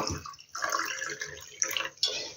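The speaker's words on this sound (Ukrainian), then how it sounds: "І тепер доливаю до повної баночки воду." Water pours into a jar of dissolved salt brine for pickling cabbage leaves, a close trickling, splashing flow in short bursts, with no talk.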